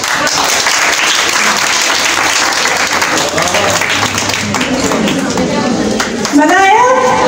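Audience applause in a crowded hall during a product demonstration, a steady wash of many hands clapping throughout, with voices mixed in underneath.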